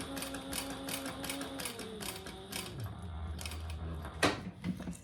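A sewing machine stitches around a beginner eyeglass case at a long stitch length, a steady close mechanical whirr that slows and drops in pitch near the end, with a few sharp clicks after it stops.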